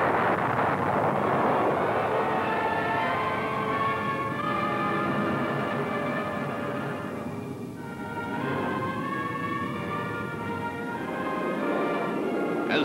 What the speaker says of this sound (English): With the thrust of four powerful engines now fully unleashed